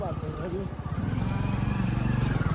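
A motorcycle engine idles and putters at low speed nearby while being parked at a gurdwara, its rhythmic thrum rising slightly as it settles, with someone talking over it.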